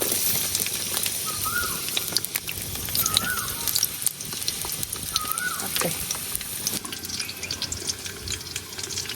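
White cooking oil sizzles steadily as a tempering for khichuri, a close, continuous hissing fry with a few brief louder crackles.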